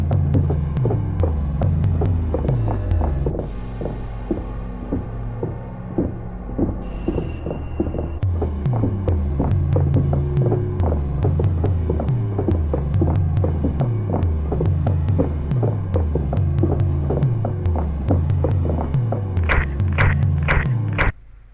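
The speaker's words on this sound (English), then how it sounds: "Alright, so now the chase theme is playing." Chase theme music in a first-person horror game built in Godot, a loud pulsing low ostinato with throbbing bass and percussive hits, higher tones entering near the end before it cuts off.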